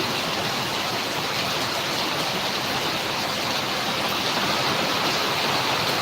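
Heavy rain pours outside as a thick, unbroken hiss, loud and close, staying level throughout.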